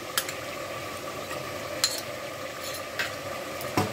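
Mutton with ginger garlic paste frying for a dhaba-style korma, a soft steady sizzle with a few sharp clinks of a spoon against the pan, fairly quiet and with no talking.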